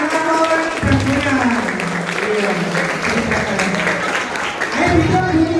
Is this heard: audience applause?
yes